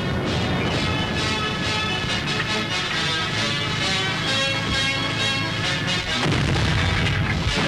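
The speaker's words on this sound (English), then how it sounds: "South African artillery, having been informed of the position of the enemy patrol, goes into action from its well-concealed position" South African artillery fires from a well-concealed position on an enemy patrol, making a dense, continuous roar broken by repeated heavy booms, with no voices.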